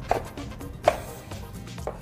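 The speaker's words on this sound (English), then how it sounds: "So chopping up our lemon." A knife chops a lemon on a cutting board for fire cider, two sharp close knocks with softer cutting sounds between them in a kitchen.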